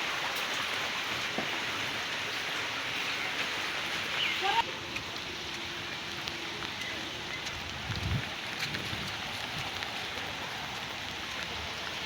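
Steady rain falls on a rural village on a wet day, a continuous even hiss close around, with a faint voice or two and a few brief knocks partway through.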